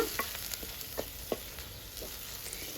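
Onions and green chilies fry for a village-style broad bean curry, giving a continuous close sizzle with a few light spoon scrapes and clicks over the cooking.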